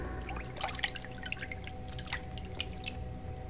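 Water drips inside a stone palace in the video game Prince of Persia: The Sands of Time, scattered near taps and splashes falling irregularly over a steady low ambient hum.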